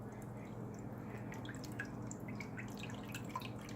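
A puppy laps and splashes at its water bowl indoors, giving soft, irregular drips and small watery splashes close by over a low steady hum, with quiet voices faintly in the background.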